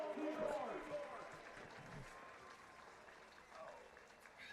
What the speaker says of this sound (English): Please join us in a round of applause for our LR 2024 Homecoming Royalty Court.